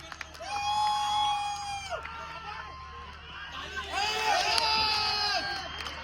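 Crowd cheering and clapping at a children's cricket match during a second birthday celebration, a lively swell of whoops and chatter, with a voice calling over the noise before it surges again.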